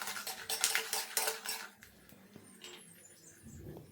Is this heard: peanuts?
yes